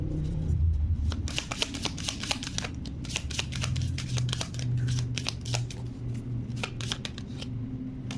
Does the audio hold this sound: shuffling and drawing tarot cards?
yes